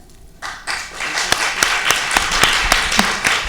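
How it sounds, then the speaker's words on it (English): Live applause from a sorority event audience, sharp irregular claps building from a quiet start into a steady, fairly close patter of many hands, with scattered louder individual claps. "Round of applause again."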